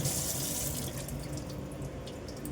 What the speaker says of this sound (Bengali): এটা এরকম কিনতে হবে দেখি একটা স্টেনার, এটা নেই, জলটা খুব ভালোভাবে ঝরে যায়,